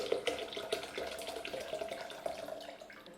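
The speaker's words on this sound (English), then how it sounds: "just put your 3 cups of water in your blender." Water pours steadily into a high-powered blender jar for about three seconds, a continuous close splashing with no voices.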